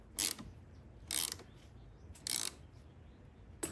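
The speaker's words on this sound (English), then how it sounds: "we can reattach the negative battery terminal and tighten it up." A ratchet tool tightens the negative battery terminal on a Chevrolet Colorado of the 2017–2022 range, giving three short, close bursts of rapid clicking separated by quiet pauses.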